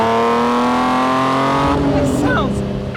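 A naturally aspirated engine in a lightweight open sports car gives a loud, throaty, old-school drone while a person talks over it, with the pitch shifting and tyres faintly squealing near the end.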